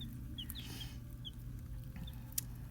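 Baby chicks in a brooder under a metal heat lamp give a few soft, high peeps, scattered and faint over a low steady hum.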